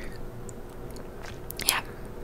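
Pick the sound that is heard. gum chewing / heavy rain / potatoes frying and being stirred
gum chewing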